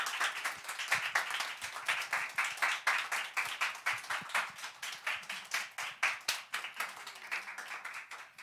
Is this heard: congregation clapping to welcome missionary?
yes